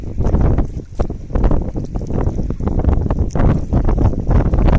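Strong wind on Albay Gulf, Bicol, Philippines, buffets the microphone in a constant roaring rumble, gusting steadily throughout with no clear voices.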